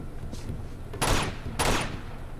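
Two heavy bursts of gunfire from the video game Uncharted 2: Among Thieves crack out close and loud about half a second apart over a low rumbling game backdrop, with a faint shot just before.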